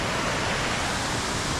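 Shifen waterfall in Taiwan pours down as a loud, dense, continuous broadband roar of falling water, close and unbroken for under two seconds with no voices.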